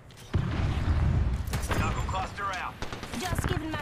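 Enemy gunfire in a shooter video game: dense bursts of shots and booms rattle for a few seconds, with a voice talking partly over the din.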